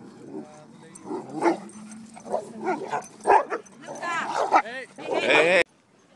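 A white dog gives several short barks and yips mixed with whimpering, close by, while people talk over and between the barks.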